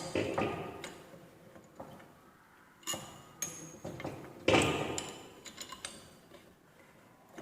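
Raising a lathe lever to engage the fixed stud gear with the main spindle gear gives faint, scattered metallic clicks and clunks, a few sharper knocks among quieter ticks.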